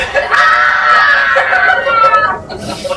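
A person screams in fright, loud and close, holding a strained, wavering cry for about two seconds before it breaks off.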